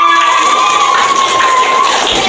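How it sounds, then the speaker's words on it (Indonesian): An Indonesian school class bursts into loud clapping and cheering, with children's voices shouting over the claps close by and a sustained high tone threading through the noise. "tepuk tangan untuk kita semua"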